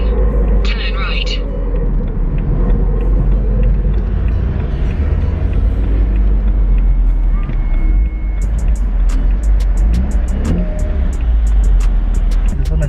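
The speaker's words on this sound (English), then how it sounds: "There's so much traffic going into parking." Heavy car traffic crawls into a mall parking lot on a Sunday, giving a loud, continuous engine rumble with brief higher clicks and tones, while people talk over the noise.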